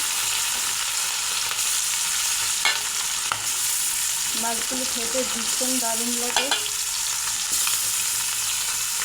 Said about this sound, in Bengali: তেল গরম হয়ে গেছে, এখন হলুদ লবণ মাখা মাছ দিয়ে দেবো।